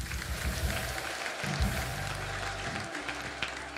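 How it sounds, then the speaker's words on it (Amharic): A church congregation applauding, a dense wash of clapping from many hands that carries on steadily for a few seconds, at moderate level against a low background rumble. "ለጌታ ክብር አጨብጭቡ"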